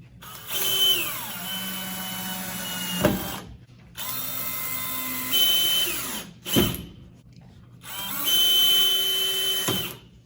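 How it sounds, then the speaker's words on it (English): A cordless power drill drives screws into drywall backed by a 2x4 during a drywall repair, in three separate whirring bursts that rise and fall in pitch with brief pauses between them, loud and close. "Now when I go to screw this in here, if I go crazy, I'll push that 2x4 right off the back."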